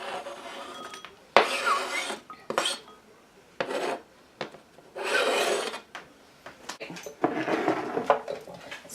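Broken pieces of chocolate covered strawberries are tipped into a bowl, with bursts of scraping, rattling and clinking against the bowl in uneven clusters separated by short pauses, close and moderately loud.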